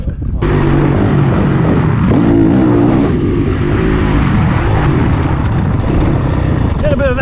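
A big red Honda CRF 450 motocross bike on a dirt track, a loud, continuous engine drone with rising and falling revs heard close up, with a rider's voice mixed in over it.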